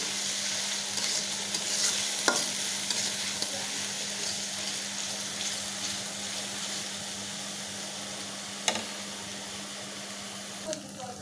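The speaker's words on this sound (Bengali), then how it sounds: "এখন দিয়ে দিব এতে বাটা পেঁয়াজ দিয়ে আমি বেশ ভালো করে নেড়ে নিচ্ছি" Onion paste stirred into fried onions in a pan for a Bengali hilsa fish curry, a steady low sizzle with occasional scraping clicks of the spoon, close and fairly quiet, no talking.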